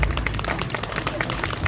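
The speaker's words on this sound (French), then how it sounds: "Vous pouvez encore une fois les applaudir bien fort" Audience applause after a Japanese fencing (kendo) demonstration at the Orléans Tattoo Show 2024, a dense, steady patter of many hands clapping together at moderate loudness, with a low rumble of crowd noise underneath.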